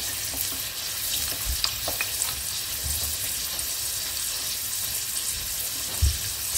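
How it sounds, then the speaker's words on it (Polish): Steady hiss and crackle of doughnuts frying in hot oil, with a few soft bumps and clinks, fairly quiet and without talk. "Teraz pora je usmażyć. Olej rozgrzany. Wrzucam pierwsze pączki."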